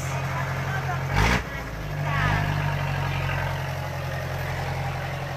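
A car engine idles with a low steady hum close by, broken early by a brief bump; faint voices sit under the drone.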